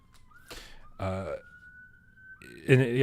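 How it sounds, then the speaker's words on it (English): A siren wails steadily in the background, its rising and falling tone sustained across the clip while people talk over it intermittently. "Sirens on my end."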